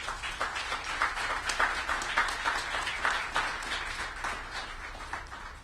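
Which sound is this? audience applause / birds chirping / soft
audience applause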